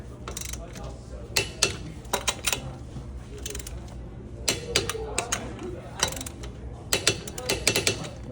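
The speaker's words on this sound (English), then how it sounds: "on the star pattern, make sure these are torqued down" Ratcheting clicks from a wrench tightening wheel lug nuts to 90 foot-pounds in a star pattern on a vehicle on a two-post hoist. Fairly close and loud, coming in repeated short bursts of clicks.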